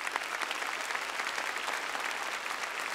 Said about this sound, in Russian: Давайте их поприветствуем аплодисментами.